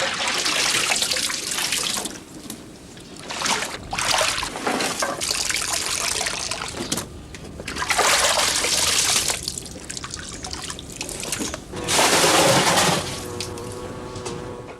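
Fruit juice drips and trickles from tarps hung over a pole after covering a jam kettle, a close, steady run of splashy patters rising and falling in bursts, with no talking.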